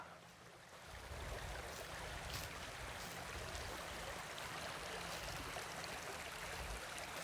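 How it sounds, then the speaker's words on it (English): A stream flowing at a hiking trail crossing at Hickory Creek in spring gives a steady, close, broadband rush of running water that swells in after the first second and holds without talk. "I'm in the stream crossing."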